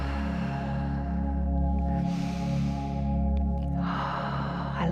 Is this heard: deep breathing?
yes